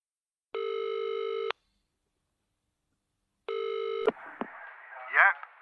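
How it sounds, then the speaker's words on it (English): Telephone ringing effect in a mystery thriller audiobook, two loud electronic ring bursts separated by a pause, then the line clicks and a muffled voice begins on the call. "Phone interview with Stanley Forbes from the Kilton Mail newspaper."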